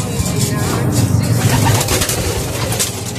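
Speedbird pigeons kept as breeders and flyers in a loft coo in a dense, continuous low murmur, a whole flock layered together at steady loudness with no talking.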